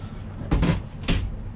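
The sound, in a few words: sliding door closing and locking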